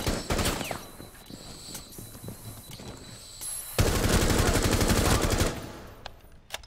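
Gunfire in Rainbow Six Siege during PC Terrorist Hunt play, sharp close single shots and short bursts followed by a dense, loud sustained automatic volley that then cuts off, with no talking.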